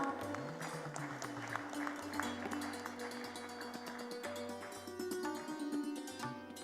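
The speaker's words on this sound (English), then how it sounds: "A big round of applause" Applause from a conference audience during a felicitation on stage at the ANMI WIRC Stocktech 2026 event: steady, dense clapping continues throughout, with sustained music tones underneath.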